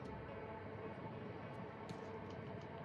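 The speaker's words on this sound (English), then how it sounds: "I need to turn up, I can't hear over the train." A steady, broad rumble of a passing train fills the whole stretch, continuous and fairly loud with no voices over it.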